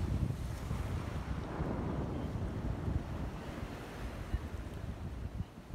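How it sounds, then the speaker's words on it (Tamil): Heavy wind buffets the microphone over a constant low roar of large crashing ocean waves at Millendreath Beach in Cornwall, with no voices. "தண்ணியும் வந்து ரொம்ப பெரிய பெரிய அலையாக வந்துட்டுருக்கு பாருங்கள்"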